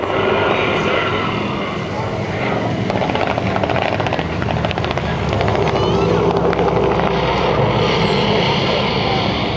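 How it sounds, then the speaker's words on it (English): A Zero fighter plane roars past at an airshow, a loud, continuous engine drone filling the whole stretch with an announcer talking over it. "As the Zero strikes across the field, shooting anything that moves and anything that doesn't."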